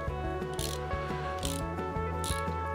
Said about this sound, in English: I don't know if you can hear the ratcheting because this one isn't very loud, but that's how it works